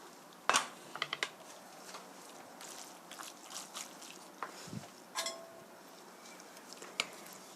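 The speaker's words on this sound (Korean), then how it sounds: "양념이 고루 가도록 이렇게 섞어 주시고요" Chicken spaghetti is stirred with its sauce in a pan, giving irregular close scrapes, clinks and wet squelches of utensil against pan at a quiet level, with no talking.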